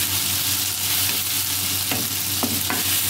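Chopped tomatoes hit a pan of frying cumin for masala bhindi, giving a loud, steady close-up sizzle with a few light stirring knocks.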